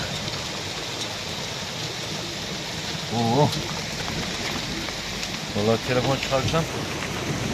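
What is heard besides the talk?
marble-sized hail falling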